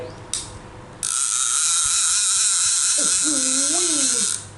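An Airgear Blacket 6000 fishing reel spool spins with a rapid, continuous whirring click for several seconds, close up, with a brief murmur of voice underneath near the end.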